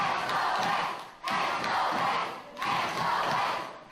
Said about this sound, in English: This crowd no doubt solidly behind Sheamus O'Shaunessy here.